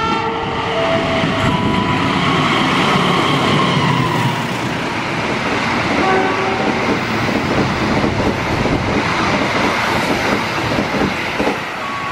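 The Saunggali 111 passenger train bound for Pasar Senen rolls past close by in a loud, continuous roar of wheels and carriages, with short horn tones early and late in the pass.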